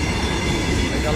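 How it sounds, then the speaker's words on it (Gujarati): A train rolls past a railway level crossing with the gate down, a steady, loud, close rumble of wheels and carriages filling the whole moment with no pause. "ગાડી આવી ગઈ છે ટ્રેન તો આ ટ્રેન જાય છે આ ફાટક ઊભો છે"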